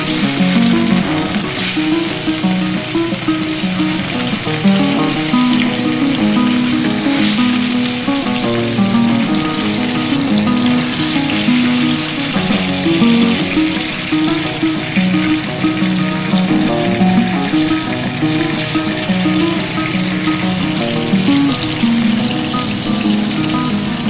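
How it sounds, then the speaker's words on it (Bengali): Fish fried in hot oil produce a loud, unbroken crackling sizzle that holds steady throughout, with no talking. "তেলটা আমার গরম হয়ে গেছে, এবার আমি মাছগুলোকে একে একে ছেড়ে দেবো।"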